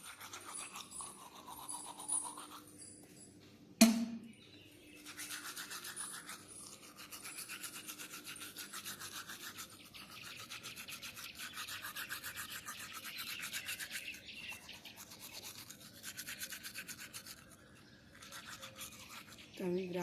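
Toothbrush scrubbing teeth in a steady close rubbing rhythm, with a brief sharp knock early on and a voice now and then.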